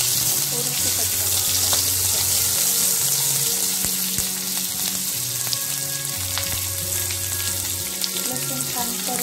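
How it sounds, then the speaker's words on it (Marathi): Garlic sautéing in oil in a pan, a close, steady crackling sizzle with occasional sharp pops and soft clinks, continuous and alone with no voices. "लसूण छान परतलेला आहे"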